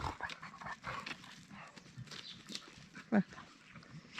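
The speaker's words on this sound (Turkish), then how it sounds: "Yavrum orada kıpırdama oldu diye havlanır mı?" A dog gives one short, sharp bark at middle distance, rising above a background of rustling and scattered outdoor noise.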